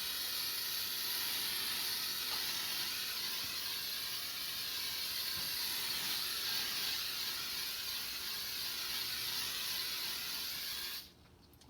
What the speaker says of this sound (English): So keeping my hairspray can pretty far away, I'm just going to make a really light